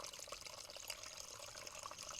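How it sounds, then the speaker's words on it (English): A small trickling stream beside a trail near Elk River, its water flowing in a steady close wash that continues without a break. "this is lovely, nice flowing water"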